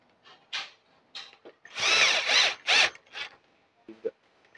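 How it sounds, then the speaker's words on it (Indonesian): An electric drill tightening screws on a 12-volt DC pump whirs in several short bursts, with one longer run in the middle, close by and separated by brief pauses. "karena saya pakai bur elektrik"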